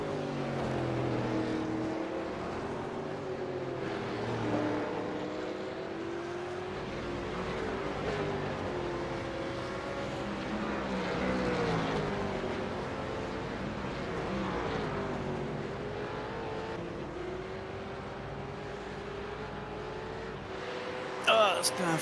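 Race car engine in the iRacing sim at Bathurst, revving steadily with rising and falling pitch through gear changes and downshifts, loud and continuous throughout, with other cars audible in the mix and a commentator talking over it.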